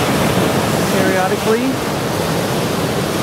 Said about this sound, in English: here we are at a place where the ocean is surging in